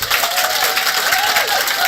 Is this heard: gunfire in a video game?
no